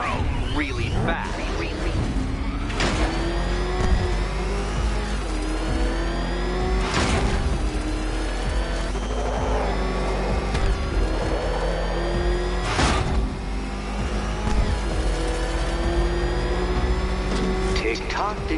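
A Batmobile engine in the game Batman: Arkham Knight revs loudly and steadily, rising and falling in pitch with several sharp bursts throughout, while a voice speaks over it.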